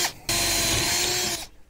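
A power drill whirs loudly for about a second, drilling a hole out to 3/16 inch, starting abruptly and cutting off cleanly, with quiet room tone before and after.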